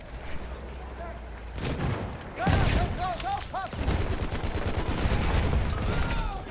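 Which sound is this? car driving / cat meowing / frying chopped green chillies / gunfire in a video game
gunfire in a video game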